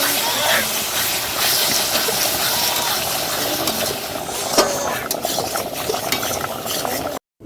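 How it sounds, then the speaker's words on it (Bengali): Spices sizzling and being stirred in a pot for gobindobhog rice fried rice, a steady close hiss and scrape running throughout with voices talking over it. "এই যে মশলা কষানো হচ্ছে"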